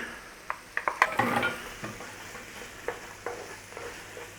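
A spoon stirs celery and onion in a pan, with clattering scrapes against the metal and a soft sizzle underneath, busiest early on and then settling into occasional taps.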